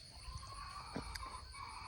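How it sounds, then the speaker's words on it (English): Chickens cluck in a garden under a tree, soft, distant calls over faint outdoor background noise. "chickens are just having a blast over there under the tree"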